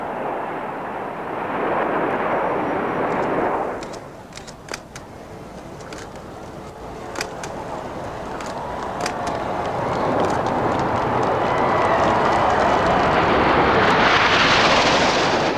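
Red Arrows jets flying overhead in a tight nine-aircraft formation at the 1990 Farnborough International Air Show; a loud, broad jet roar swells, dips for a few seconds, then builds again, with scattered clicks and bumps.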